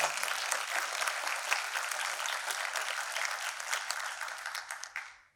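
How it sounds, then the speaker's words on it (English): An audience at an evening candidates forum bursts into a sustained round of applause, with dense, steady clapping that holds for several seconds before fading out at the end. "Can we give him a round of applause?"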